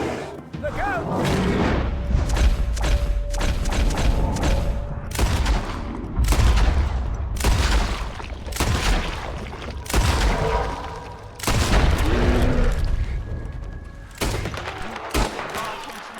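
Heavy gunfire and booming explosions from the video game Red Dead Redemption 2 fill a chaotic shootout, with repeated loud volleys and blasts crowding together, some in quick bursts, over nearly continuous action and occasional voices.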